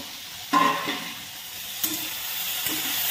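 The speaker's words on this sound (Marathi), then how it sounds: "पुन्हा एकदा परतून घेऊ।" A vegetable curry (bhaji) sizzles steadily in a pan over a medium flame, with a few sharper scraping stir strokes rising over the continuous frying hiss, close up and without speech.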